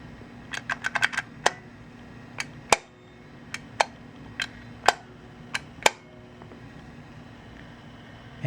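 Older Dover traditional push button from the late 1960s to mid 1970s pressed repeatedly, giving a series of sharp, close mechanical clicks in irregular bursts against a quiet background.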